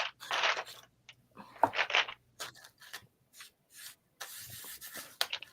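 Fingers burnishing craft paper, making close, intermittent rubbing and scuffing strokes in short bursts separated by brief pauses, fairly soft overall.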